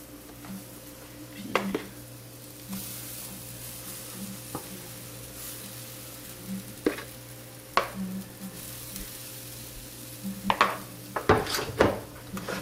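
Pancake batter sizzling in a frying pan, a faint steady hiss under a low kitchen hum with scattered utensil clicks and scrapes, closer clatter near the end.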